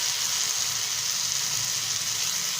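Macaroni sizzles steadily in a hot pan as a few drops of Ching's Secret dark soy sauce go in, a close, continuous hissing fry with no talking.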